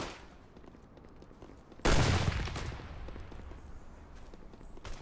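Gunfire in a war scene, with a rattle of distant shots and then a sudden loud blast that rolls into a sustained roar of firing, followed by a later sharp report.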